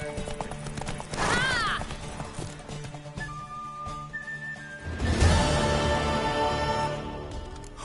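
A horse in a PS4 video game neighs loudly twice, with rising, whinnying calls, while hooves clip-clop beneath game music; no one speaks.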